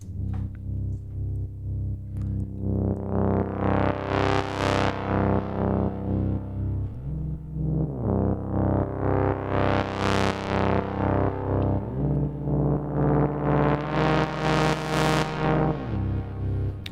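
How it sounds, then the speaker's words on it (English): A loud, buzzy Moog Sub 25 analog synthesizer drones with a pulsing melodic techno rhythm, its filter sweeping open and closed in slow repeated waves, gritty and rich. "it's just the Moog Sub 25"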